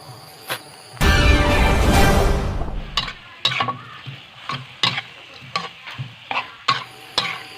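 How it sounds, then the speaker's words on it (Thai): Octopus and holy basil leaves stir-fried in a pan: a loud burst of sizzling as the leaves go in, then fading crackle broken by regular spatula scrapes and taps, close up and with no talk. "ผัดต่อเล็กน้อยจนใบกะเพราสลบจ้าพี่น้องจ้า"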